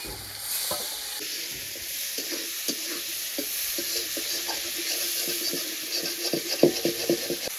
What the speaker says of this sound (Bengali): এবার চিংড়ি মাছগুলো এই একই তেলে ভেজে নিচ্ছি